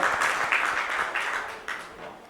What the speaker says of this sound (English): Let's give him a huge round of applause, ladies and gentlemen.